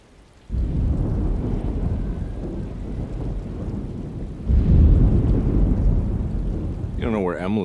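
A thunderstorm with heavy rain in the video game Alone in the Dark: dense rain hiss starts abruptly, then a deep thunder rumble swells midway. A voice speaks briefly at the very end.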